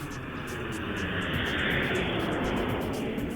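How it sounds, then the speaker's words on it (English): Aircraft descending on approach over Stockport toward the runway at Manchester Airport, a steady broad engine roar heard from the ground, constant and fairly loud throughout with no talking. "Here's one of the aircraft coming down over Stockport through Heel Green, down towards the runway to land at Manchester Airport."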